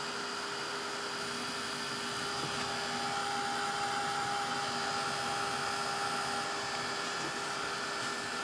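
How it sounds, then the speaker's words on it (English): A power sander runs steadily with a constant high whine and broad buzzing hiss, unbroken for several seconds, close by. "I'm just going to give it another light sanding"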